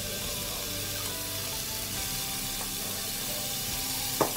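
Chili, garlic and beef are stir-fried in a pan for Thai basil beef, with a dense, even sizzle throughout and a couple of sharp stirring clatters near the end.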